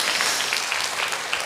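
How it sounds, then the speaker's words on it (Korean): Congregation applauding in a church after two choir members sing, a brief continuous patter of many hands clapping, moderately loud and steady without a break. "뜨겁게 박수 한번 부탁드리겠습니다"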